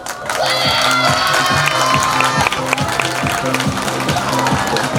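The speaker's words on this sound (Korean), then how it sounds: "박수 계속 쳐라 계속 자 오케이 이제 박수를 제일 크게 쳐야 됩니다" Students at a middle school sports day opening ceremony clap together in a loud, sustained burst that continues across the whole stretch, with crowd noise and a steady repeating band rhythm underneath.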